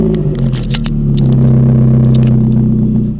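Perodua Myvi Gen 3 with a Carrozzeria exhaust, its engine revved up and held in a steady deep rumble with crackles on top, loud and close, no voices.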